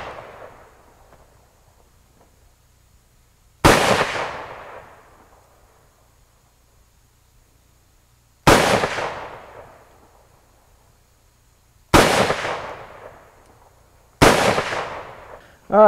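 A MAS 49/56 rifle firing PPU 7.5x54 rounds outdoors, four loud, sharp shots spaced several seconds apart, each with a decaying echo and near silence between them.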